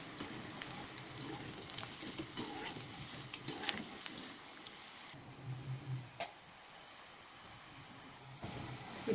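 Brinjal slices deep-frying in hot oil give a steady, crackling sizzle with scattered pops, close and fairly quiet, with no talking.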